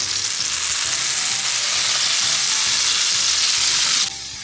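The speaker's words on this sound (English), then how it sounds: "My skillet is preheated, and I'll add a bit of butter and olive oil." Butter and olive oil sizzle in a preheated skillet on the stovetop, a loud, steady, even frying hiss that runs uninterrupted and then cuts off abruptly near the end.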